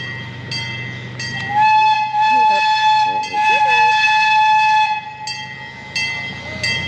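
A zoo ride train rolls past with a steady mechanical rumble and a long sustained horn tone, broken by short whistle toots; a few faint voices come through.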